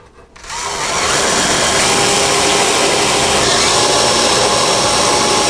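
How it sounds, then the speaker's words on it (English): A drill fitted with a small spot weld cutter bores into a metal panel, starting after a brief quiet moment and then holding a loud, steady high-pitched whine and grind without letup. "we're going to use our tiny little spot weld cutters to drill a hole into this piece without going all the way through."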